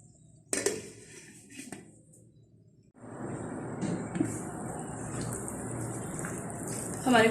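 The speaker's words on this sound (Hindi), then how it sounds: "तकरीबन 2 गिलास पानी डाल के इसे लो फ्लेम पे पकाएं।" Water is poured from a glass into a pot of mutton kofta curry cooking on the stove, a steady splashing gush that starts after a couple of quieter clinks and continues for several seconds.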